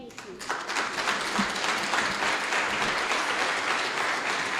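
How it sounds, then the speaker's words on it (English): Sustained applause from an audience at an International E-waste Day commemoration following a poem recital, dense and steady across the whole stretch with background voices mixed in. "A huge round of applause for Trifonia and Charisma there"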